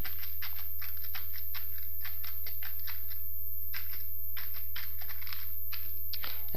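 C++ code being typed on a computer keyboard: steady runs of close, clicky keystrokes over a constant low electrical hum.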